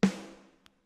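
A single snare drum hit with a sharp crack and short decaying rattle, followed by a tiny faint tick.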